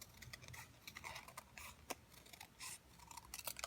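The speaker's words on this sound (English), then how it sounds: "We're going to cut one more piece out here." Scissors snip paper for a handmade card in quick, faint, crisp cuts, a few of them sharper than the rest, in a quiet room.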